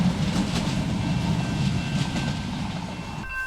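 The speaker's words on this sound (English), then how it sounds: "Well, we just got a free train ride." A passenger train runs along the rails in Portugal, a loud, steady rumble and rattle of the carriages with faint rhythmic clatter that drops away abruptly near the end, heard from inside without talking.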